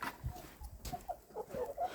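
A rooster clucks in short, soft bursts, fairly close, with low rustling and bumps in between and no talking.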